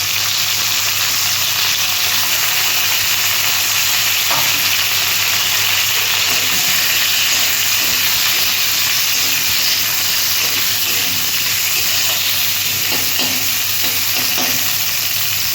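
Bitter gourd sliced into hot oil with panch phoron five-spice seeds, sizzling in a steady dense hiss close up, with occasional soft scrapes of stirring and no voices.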